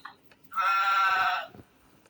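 A sheep lets out one loud, close bleat lasting about a second, wavering and nasal, between short stretches of quiet with a soft thump at the end. No one speaks.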